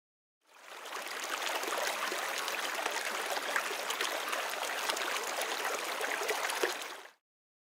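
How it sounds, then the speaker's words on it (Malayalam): A swollen river overflows in the rainy season as a cartoon effect: a continuous rushing, gurgling torrent of water that swells in, runs steadily for several seconds at full strength and cuts off abruptly. "പുഴ നിറഞ്ഞ് കവിഞ്ഞൊഴുകാൻ"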